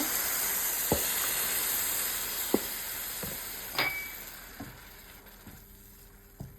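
Carrots frying in ghee for carrot halwa, a steady close sizzle with hiss and a few sharp clinks and scrapes of a spoon stirring the pan, fading slightly toward the end.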